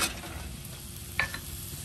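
Tasso meat is stirred into turtle soup in a cast iron pot over a live fire, with a steady simmering sizzle and a single brief scrape of the spoon partway through. No one speaks.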